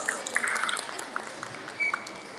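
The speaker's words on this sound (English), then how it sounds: "Let's give her a big round of applause." Scattered applause rises from a modest audience of parents at an education event, steady soft clapping with a few sharper individual claps, heard from a distance in a reverberant room.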